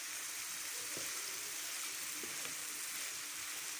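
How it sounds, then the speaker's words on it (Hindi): Spicy mutton liver frying on a tawa gives a faint, steady broadband sizzle throughout, with a couple of soft scraping stirs near the start and middle. "अच्छी तरह भूनना है इसे।"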